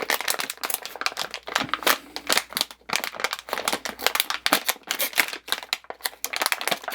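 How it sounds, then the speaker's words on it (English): An electrostatic bag is handled up close, giving irregular bursts of sharp, loud crinkling and crackling throughout. "Sorry for the crinkling noises."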